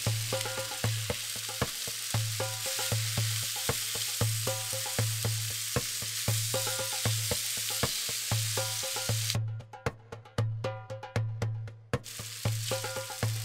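Tomatoes being stirred in a hot frying pan: a steady sizzle with repeated scraping and tapping strokes of the utensil against the pan, close by.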